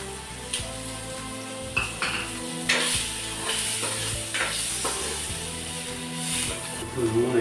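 Whole cumin seeds and onion fry in a pan with a steady sizzle, broken by clinks and scrapes of a utensil stirring against the cookware, heard close up.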